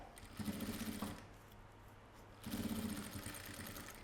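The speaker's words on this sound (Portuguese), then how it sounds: "E aí, passo uma costura." A sewing machine runs a seam on a roomy maxi box toiletry bag. Two close, steady bursts of rapid stitching are separated by a short quiet pause.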